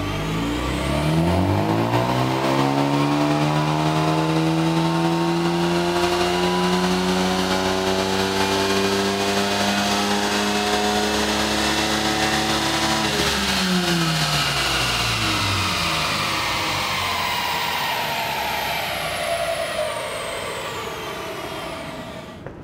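A hot Ford Focus ST fitted with a Vortech intercooler roars through a full-throttle dyno pull, its engine note climbing steadily for several seconds, then dropping and winding down, loud and close throughout.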